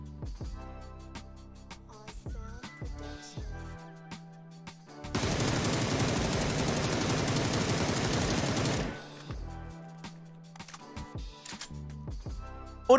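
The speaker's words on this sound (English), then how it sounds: "when shooting a full mag, you'll automatically reload at the end of your mag." Sustained automatic gunfire in PUBG as a full magazine is emptied in one loud continuous burst of about four seconds, followed by quieter clicking and mechanical reload sounds amid game ambience.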